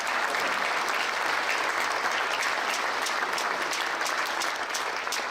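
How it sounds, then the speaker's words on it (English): An audience at a fifth grade band concert breaks into sustained applause, a dense, loud wash of many hands clapping at once that holds steady for several seconds without letting up. "give a round of applause for all of our music colleagues"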